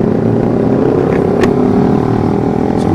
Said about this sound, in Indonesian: gue paling seneng kalau ngalpot bunyi gini